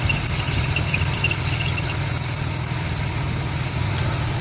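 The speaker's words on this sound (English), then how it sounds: "The sound that you are hearing right now is not serious at all. It comes from the fan belt" A car's fan belt squeals with a steady, high-pitched whine over the low, even rumble of an idling engine.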